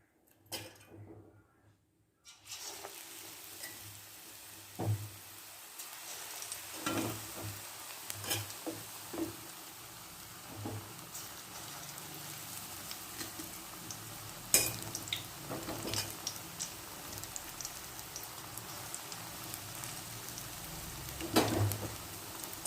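Plantain bajji fritters sizzle in hot oil, a steady close frying crackle with occasional stirring and utensil clinks, going on without talk.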